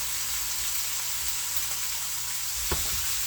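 Steak fat searing on a hot pan gives a steady, dense sizzle heard close and alone, with one brief clink near the end.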